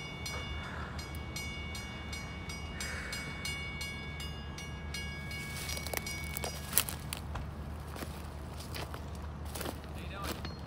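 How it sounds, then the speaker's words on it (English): A train rolls through at a rail crossing while a railfan waits, a low steady rumble with scattered clanks, clicks and rattles growing busier toward the end. Faint footsteps and brief speech-like sounds sit beneath it. "Just let me wait until this next train goes through"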